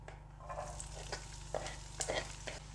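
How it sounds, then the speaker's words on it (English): Chopped onion frying in a little vegetable oil is stirred in a pan, giving a steady close sizzle broken by several scraping strokes, with a low hum underneath. "Stir this onion for a little while so it releases its juice into the vegetable oil."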